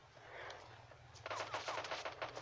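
Automatic gunfire in PUBG Mobile Lite, a quick burst of rapid shots starting partway through over a low steady game hum, fairly quiet overall.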